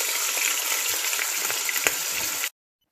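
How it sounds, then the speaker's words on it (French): Meat browning in a frying pan for a Senegalese dakhine, a steady close sizzle of frying with a few soft stirring knocks, then cutting off abruptly to silence near the end. "Une fois que vous avez fait dorer un peu la viande, vous rajoutez oignons et ail"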